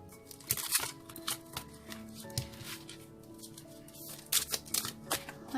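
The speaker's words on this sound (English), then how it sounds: "3 more shuffles" A deck of cards shuffled by hand for a pick-a-card reading, with a series of soft riffling bursts and light taps close to the microphone, fairly quiet, with no voice heard.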